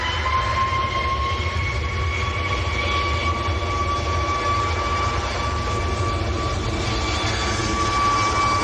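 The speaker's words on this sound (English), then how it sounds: "Ryanair just about to roll." A Ryanair airliner at Manchester Airport spools up for its takeoff roll, a loud, steady jet-engine roar with a high whine holding evenly throughout, heard from a distance with no talking.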